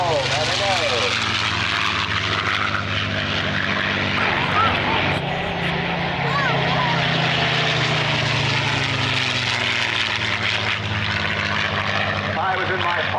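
Hawker Hurricane with a Packard Merlin engine passing at an airshow, a loud continuous propeller-engine drone that swells and shifts in pitch as it flies by, with crowd voices and talk mixed in.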